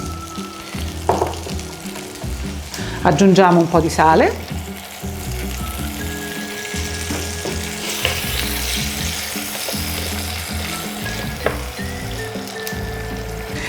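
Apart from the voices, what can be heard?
cherry tomatoes sizzling in a hot pan with garlic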